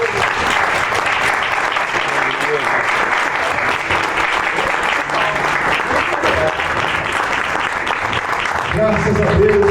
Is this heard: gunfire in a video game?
no